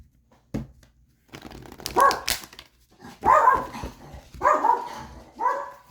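Puppies bark in short, high, yappy bursts, about four clusters of barks with brief pauses between, fairly close and moderately loud with no talking.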